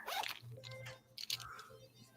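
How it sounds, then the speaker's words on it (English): Zipper on clothing or a bag pulled in quick bursts, close and fairly quiet, with short rasping strokes and a low background hum. "I just heard a zipper"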